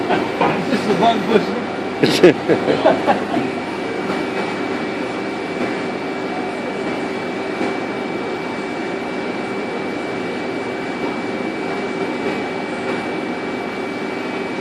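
A Mori Seiki NL2000Y twin spindle CNC lathe deburs a part, giving a steady mechanical hum with a thin high whine throughout, and a few brief spoken words near the start.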